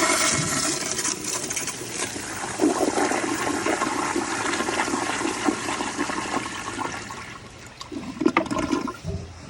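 A Kohler Kingston wall-mounted toilet flushes with a loud, close rush of water that swirls and gurgles for several seconds before tapering off into trickling refill.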